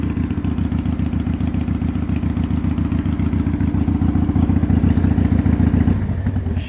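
A Harley Davidson motorcycle engine idles steadily close by, a loud, even low-pitched rumble with a rapid lumpy pulse that holds throughout and eases slightly near the end.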